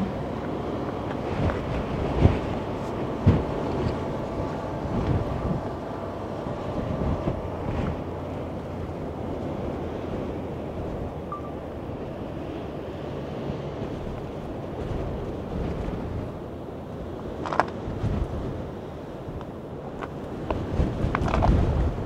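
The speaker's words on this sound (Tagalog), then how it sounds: "Siguro marinig ninyo ang hangin, guys. Napakaingay ang hangin." Strong wind gusts at Red Rock on a very windy day roar steadily across the microphone, with a constant rushing buffet and occasional louder bursts.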